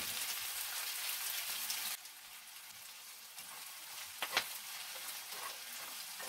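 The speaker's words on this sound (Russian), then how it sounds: "Сейчас лук до золотистости обжарю" Steady soft sizzling of onion frying in a small pan, a constant hiss that drops in level partway through, with a few light clinks.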